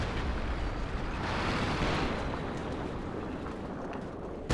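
In Company of Heroes 2, a Panzer IV tank is destroyed amid a dense, rumbling roar of battlefield explosions and fire, ending with a sharp pop.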